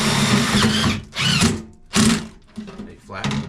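A power drill whirs in several short bursts, with brief pauses between them, up close, driving screws into roofing.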